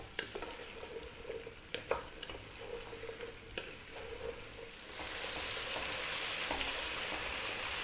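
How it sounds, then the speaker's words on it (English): Vegetables for a sweet potato soup sauté in a pan, with several clattering stirs up front before a steady, brighter sizzle swells up and holds to the end, close and with no voices. "throw this around in the pan for about 5 or 6 minutes"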